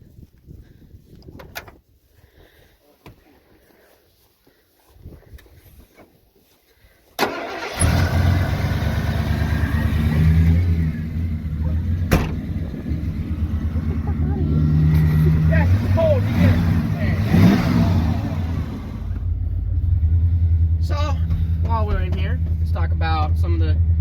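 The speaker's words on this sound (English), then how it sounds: "now, let's see what the V8 sounds like." A Ford F-Series truck V8 starts after a few quiet clicks and knocks, then runs at a loud, steady idle with a brief rise in revs near the end, and a voice talks faintly early on.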